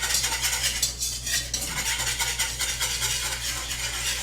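A whisk beats a roux of flour and fat in a pot as part of making beefy mac and cheese, giving a steady, close scraping and clattering rhythm that runs without pause throughout.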